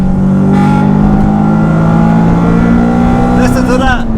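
A Honda Civic Type-R EP3, a track-focused build, revs hard and loud with a steady engine drone that climbs toward the top of the rev range. People talk over the engine.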